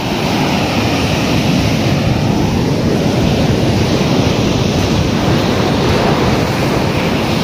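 Continuous roar of sea waves crashing at Thiruvanmiyur beach, loud and close, with steady broadband surf noise and some wind buffeting throughout.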